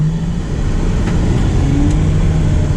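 Ferrari 812 Superfast's engine pulls with a loud, sustained mid-pitched drone that climbs slightly in tone, heard up close from inside the car with no voices.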